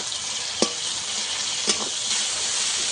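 Spice paste frying in oil for a duck egg curry, being stirred: a bright, steady close sizzle with a couple of distinct scraping strokes of the spoon, no talking.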